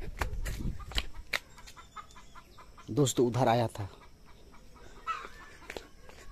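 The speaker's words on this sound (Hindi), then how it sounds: "वो मेरे ही मुर्गी हैं जो कि मैंने पाल के रखे थे" Domestic backyard chickens cluck in short bursts around someone speaking Hindi, with a louder flurry of clucking in the middle and quieter calls near the end.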